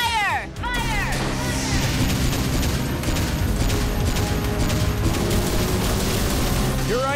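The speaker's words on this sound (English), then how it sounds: "Blue Pulse gun, fire! Fire!" The Blue Pulse gun fires during an animated car battle against a monster car: a burst of rapid zapping blasts and booms, loud and sustained over a chaotic battle din, with a brief sweeping chirp at the start.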